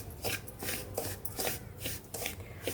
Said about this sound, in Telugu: కలుపుతుండాలి, లేకపోతే మాడిపోద్ది.